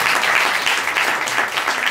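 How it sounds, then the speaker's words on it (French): An audience applauding Monsieur Duchemin: dense, steady clapping from many hands filling the room, loud and continuous without pause. "On peut applaudir quand même monsieur Duchemin."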